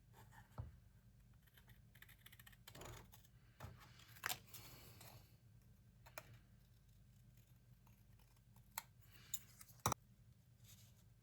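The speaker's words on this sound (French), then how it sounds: "Ça, c'est mes ciseaux fétiches." Favourite pair of scissors cutting paper for scrapbooking: sparse, faint snips and light taps scattered across a quiet room, close to the listener, no voices.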